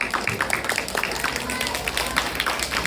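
Audience applause for children performing at a school end-of-term ceremony and Boys' Brigade enrolment, a steady crowd clapping that fills the whole stretch with dense, continuous patter.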